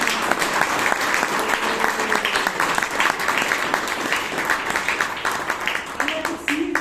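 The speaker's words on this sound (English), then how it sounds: "Let's give a round of applause" An audience at a Toastmasters club meeting in Bangalore gives a sustained round of applause, dense steady clapping from many hands, with some voices audible underneath.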